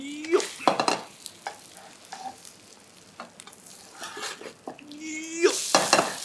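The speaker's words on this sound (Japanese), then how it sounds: "固まりましたら何回かひっくり返します" Japanese-style chicken breast piccata fries in a pan while being flipped several times: bursts of sizzle, scraping and clattering utensil knocks come and go close up.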